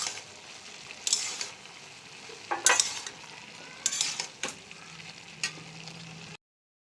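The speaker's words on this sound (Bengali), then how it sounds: "কচুটা দিয়ে মশলার ওপর কষানো হচ্ছে।" Taro sautéing in spices in a pan, a quiet steady sizzle broken by several bursts of stirring and scraping, then cutting off abruptly.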